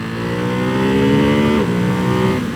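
A 2024 Ducati Hypermotard 698 single-cylinder motorcycle engine revs, a loud close harmonic whine that climbs in pitch, dips briefly, and rises again while the bike rides.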